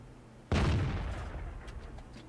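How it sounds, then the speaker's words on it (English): A single heavy cannon shot from an E 25 tank in the video game World of Tanks: one sudden loud blast that fades into a rolling, rumbling tail, with no talk. "Watch this rate of fire."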